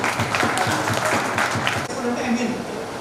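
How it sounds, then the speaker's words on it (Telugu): A crowd at a school alumni reunion claps in a short burst of applause, a dense patter of hands that continues briefly while someone speaks over it. "We should clap for them."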